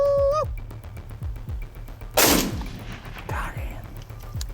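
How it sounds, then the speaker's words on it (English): Two rifle shots fired at the same instant ring out as one loud crack during a coyote hunt in open country, followed by a rolling echo, with faint calling sounds before and after. "we shot at the exact same time"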